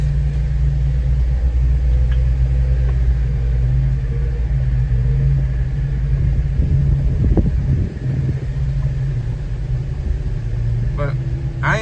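A Jeep engine rumbles low and steady as it crawls along a mountain trail in second gear, loud and close inside the vehicle, with occasional bumps and rattles under the drone.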